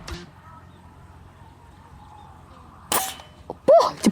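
A single sharp shot from a Predator GK500 air rifle cracks out near the end, followed by a quick metallic ping over a quiet background.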